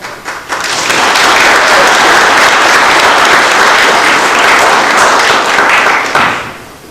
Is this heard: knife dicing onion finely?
no